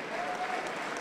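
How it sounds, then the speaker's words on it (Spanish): Church congregation applauding during a Sunday evening service, a steady wash of clapping filling the whole second at moderate level, with a voice faintly audible underneath. "Dios le bendiga, aplauso para Cristo Jesús."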